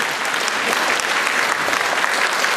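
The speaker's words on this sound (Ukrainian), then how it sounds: "Оплески, оплески, оплески." An audience at a creative evening concert in Hrebinka applauds steadily and densely, a close, full wash of clapping that holds at an even level without pause.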